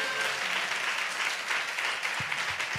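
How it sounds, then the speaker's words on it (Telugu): A church congregation claps in praise of Jesus, a steady mass of hand claps with a few low thumps near the end. "యేసుకు చప్పట్లు కొట్టి స్తోత్రం చెల్లిద్దాం."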